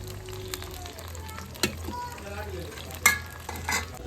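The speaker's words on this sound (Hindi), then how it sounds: "अभी इसको निकालेंगे, ये प्याज फ्राई हो जाए।" Onions fry in a pan with whole salt during a Sunday morning home cooking routine, giving a steady soft sizzle broken by a few sharp clinks and stirring scrapes.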